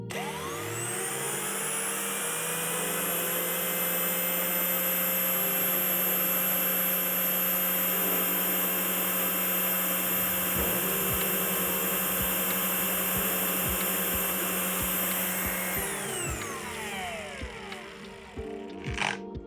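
Procraft cordless brushless angle grinder spinning up to full speed, holding a steady high whine, then dropping to a lower sustained tone near the end, loud and close with no talk.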